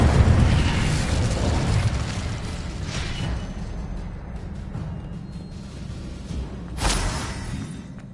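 Confringo and Incendio spell blasts in the Hogwarts Legacy video game, a broad rumbling burst and fiery roar sustained at the start, then a sharper explosive crack near the end, with no voices.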